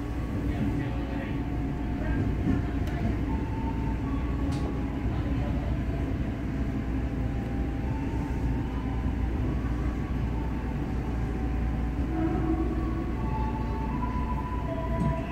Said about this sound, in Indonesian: Kita akan buka pintu sebelah kanan kereta masuk jalur 5.